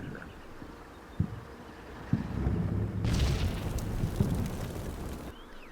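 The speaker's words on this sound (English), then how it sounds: "The artillery should be dissipating" Artillery fire in the Combat Mission video game, a couple of distant dull thumps followed by a sustained rumbling roar and a windy wash, moderately loud and without speech.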